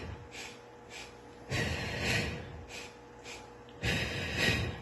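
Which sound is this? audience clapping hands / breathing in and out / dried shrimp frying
breathing in and out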